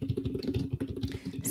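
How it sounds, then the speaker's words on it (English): Rapid, steady keystrokes on a computer keyboard, fairly close and soft, continuing alone for a moment without speech. "are you typing?"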